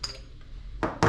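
An unloader pressure valve is taken apart, its cap coming off with a faint metallic scrape and then two sharp clinks of metal parts close by.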